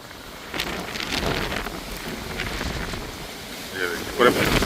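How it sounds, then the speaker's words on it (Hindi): Strong windstorm with rain near a forest resort, gusts roaring and buffeting the microphone in a steady, noisy rush with a few louder bursts toward the end. "देखिए प्रचंड रूप आंधी का।"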